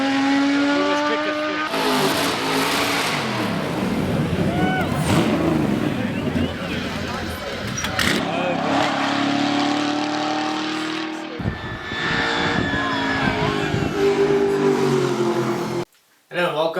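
Race cars at the Simola hill climb, some of them over 1,000 horsepower, accelerate hard with rising and falling engine notes and tyre noise. The sound is loud and continuous and cuts out briefly near the end.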